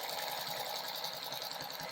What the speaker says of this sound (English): I'm going to keep quilting like this in each segment.